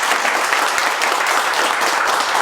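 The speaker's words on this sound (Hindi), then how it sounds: "बार जोरदार ताली बजाइए बस।" A crowd of students at an event applauds, dense and even clapping heard up close and alone for a couple of seconds.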